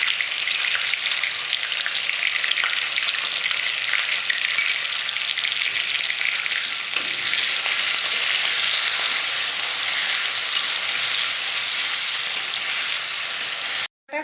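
Ginger and green chilli paste frying with cumin for khichdi, a loud, steady sizzle with soft stirring running unbroken for about fourteen seconds before cutting off abruptly near the end.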